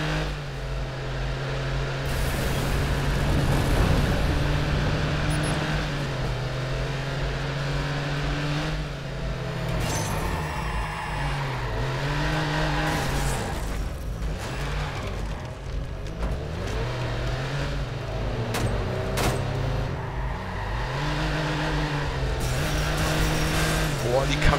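A heavy car driven in Watch Dogs, its engine droning and revving with rising and falling pitch for a long stretch, brief tire squeals, and bits of voice mixed in.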